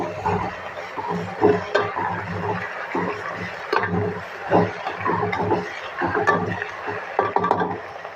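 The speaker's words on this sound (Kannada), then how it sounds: "ಈರುಳ್ಳಿ ಹಾಕಿ ಚೆನ್ನಾಗಿ ಫ್ರೈ ಮಾಡಿ" Onions fry in a pan for gooseberry chitranna, a steady sizzling hiss broken by frequent knocks and scrapes of stirring against the pan, close and fairly loud.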